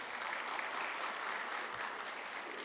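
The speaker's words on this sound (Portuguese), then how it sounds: "Agora vocês merecem uma salva de palmas para vocês aí." A group at a training session for church lay readers claps together in a steady, even round of applause, faint and distant in the room, with no voices over it.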